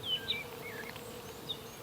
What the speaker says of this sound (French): il y a énormément d'abeilles qui sont en train de butiner